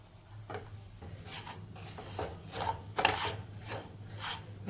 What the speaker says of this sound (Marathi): खरपूस असं भाजून घेऊया आपण.